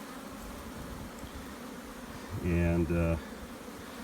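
Honey bees around an open nuc hive make a soft background murmur, then one bee flies close for a brief, loud buzz lasting under a second.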